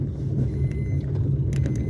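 A car engine revs steadily during a driving lesson, heard as a low, continuous rumble from inside the car with no talk.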